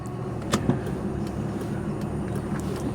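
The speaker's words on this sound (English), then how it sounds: "I can just put my foot down there because it just hooks and goes because of the four-wheel drive" A Subaru SVX with a flat-six engine and four-wheel drive pulling hard, a steady loud engine drone heard from inside the car with a couple of brief knocks near the start.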